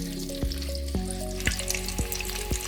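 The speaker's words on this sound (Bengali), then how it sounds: "ডিমগুলো হালকা ফ্রাই হবে।" Eggs fry gently in a pan over a low gas flame for a chicken dak bungalow dish, giving a steady close sizzle broken by regular sharp taps about every half second.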